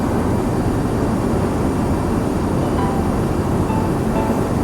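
Steady broadband wind roar fills the cabin of an Airbus A350 in flight, a constant loud rushing hiss with low rumble and no talking, unchanging throughout.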